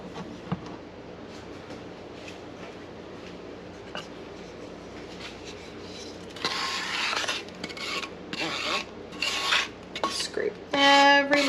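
Japanese curry is scraped into a pot with a utensil, starting as quiet rubbing and turning into louder, close, repeated scraping strokes against the metal near the end.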